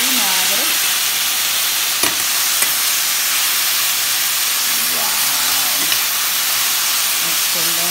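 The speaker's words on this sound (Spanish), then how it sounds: "Le voy a echar un poco de vinagre." Eggplant frying in a pan hisses and sizzles loudly as vinegar is poured in, a dense steady crackle with a couple of sharp utensil clicks and occasional faint tonal sounds in the background.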